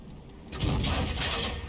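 An artillery shell striking the turret of a Conqueror tank in a tank battle game, a single loud blast that erupts suddenly and trails into a rumbling, crackling tail, heard alone.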